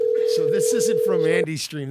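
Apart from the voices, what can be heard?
phone ringing in the background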